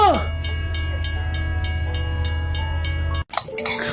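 A train rolls past at close range with a steady heavy rumble and rhythmic clanking of wheels over rail joints, then a sudden cut to other sounds near the end.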